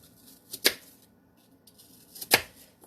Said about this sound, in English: so let's chop my apples